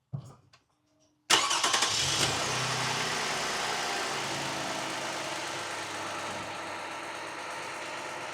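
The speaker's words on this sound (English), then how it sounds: "start the engine" A car engine is cranked and catches after a short quiet pause with a few clicks, roaring up loudly and then settling into a steady, even idle that runs on close by.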